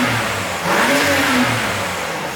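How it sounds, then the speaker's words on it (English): BMW M3 with front-mount intakes revs up in one strong, close throttle blip, the engine note climbing and falling back toward idle. "Max, rev it."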